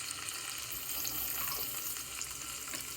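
Ginger garlic paste frying in hot oil in a pan, a steady close hiss and crackle of sizzling that holds evenly throughout with no voices.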